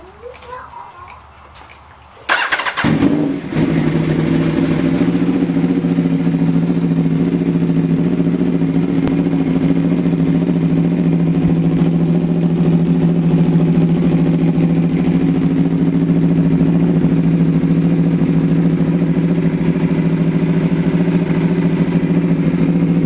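An Aprilia RSV4 motorcycle engine with a new custom titanium race exhaust cranks and fires up, then settles into a loud, steady, throaty idle that continues close by.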